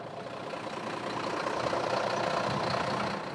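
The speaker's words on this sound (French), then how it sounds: "le dépanneur vient d'arriver sur place" A tow truck engine idles steadily on the A6 motorway, a constant low rumble that swells slightly midway, with passing traffic noise blended in and no voices.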